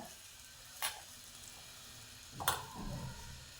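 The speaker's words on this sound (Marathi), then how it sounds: "आता याच्यावर आपण तडका घालू तेल जास्तच तापलं त्यामुळं खाली पण उडाले जरा" Hot oil tempering (tadka) is poured over a bottle gourd salad, producing two brief sharp sizzling spurts, the second followed by a short crackling splatter, against quiet background.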